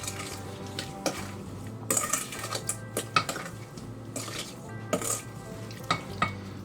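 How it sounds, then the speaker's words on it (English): Blueberry crisp tart filling thickened with flour is slowly mixed in a bowl, giving close, soft scraping and light clinks of a utensil at irregular intervals, with no talking. "And you're just going to go slowly mixing it together."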